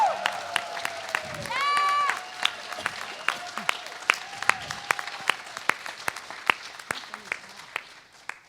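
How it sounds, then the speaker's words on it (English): A congregation at a Sunday service applauds new practitioners with distinct, fairly close claps in a steady patter, while a voice and a brief musical tone sound early on. "would you please stand and give these brand new practitioners a round of applause?"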